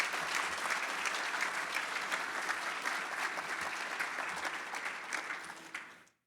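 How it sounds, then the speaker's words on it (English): Steady applause from a breakfast fundraiser audience fills the room, dense and even for several seconds before tapering off abruptly at the end. "Let's give all our speakers, Frankie, Corey, and Assad, a round of applause again"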